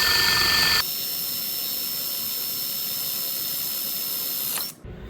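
A power drill whines steadily at high pitch, boring a hole into maple for several seconds before cutting out abruptly.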